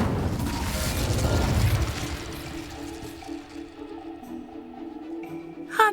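An Incendio fire spell in the Hogwarts Legacy video game goes off as a loud, rushing burst that fades over a couple of seconds into ringing, tonal game effects, with a sharp pop at the end.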